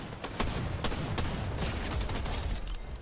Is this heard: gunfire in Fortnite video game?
yes